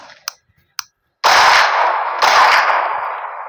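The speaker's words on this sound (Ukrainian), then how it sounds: "Хто це в мене там стріляє?" Gunfire plays from a television: two sharp isolated shots, then long, loud bursts of rapid automatic fire that fade slightly toward the end.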